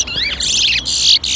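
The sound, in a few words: towa towa bird singing in a bird race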